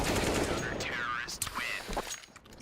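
Rapid Counter-Strike rifle gunfire in a competitive IEM Katowice Major match between BIG and G2, a player spamming shots through a smoke grenade, dense and continuous under excited commentary and crowd-like background.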